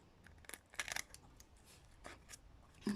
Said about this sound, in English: You're going to take a pair of scissors and you're going to cut it straight.